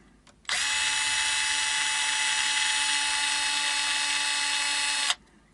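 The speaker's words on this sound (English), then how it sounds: "the first thing I'm going to do is I'm going to unscrew the bridge pickup." A power driver whirs steadily for about four and a half seconds, starting and stopping abruptly, while unscrewing the bridge pickup on a Westone Concord II electric guitar. The sound is close and high-pitched, with no talking.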